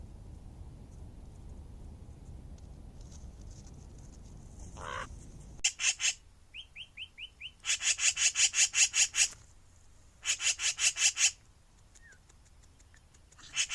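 Close, scratchy rubbing bursts from sticks and grass brushing against an outdoor remote wildlife camera repeat in short rhythmic groups over a quiet background, mixed with a few brief chirps.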